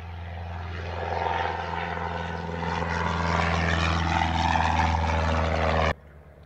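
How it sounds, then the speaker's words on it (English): Small propeller airplane on final approach over runway 31 left at Reid Hillview airport, a steady droning engine hum that swells louder as it nears, then cuts off abruptly; no talking. "he's on final approach for 31 left"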